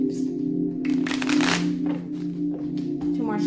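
Tarot cards riffle and shuffle in quick bursts over a steady low hum, with soft papery flicks close by.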